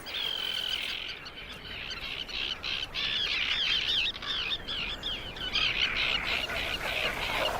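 Terns nesting on floating islands keep up a continuous chorus of harsh, overlapping squawks and chatter, dense and steady, with many birds calling at close range.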